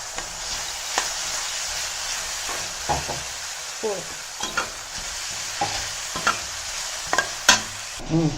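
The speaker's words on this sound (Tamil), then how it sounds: "மிக்ஸ் பண்ணிக்கலாம். இது நல்லா வதங்கட்டும்." Vegetables sautéing in a hot pan for Schezwan fried rice: a continuous sizzle broken by regular spatula stirs and scrapes against the pan, close and fairly loud, with brief faint voice sounds.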